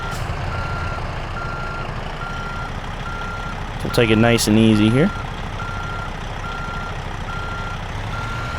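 A truck in American Truck Simulator gives out a series of regularly spaced reversing beeps over a low idling engine. A person talks briefly partway through.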